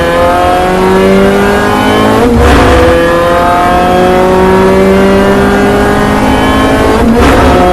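A Mini Challenge Clubsport race car accelerates hard at Donington. The engine is loud and close, its revs climbing steadily, with brief breaks at gear changes.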